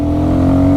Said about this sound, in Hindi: ऑलमोस्ट 9000 RPM तक जा रही है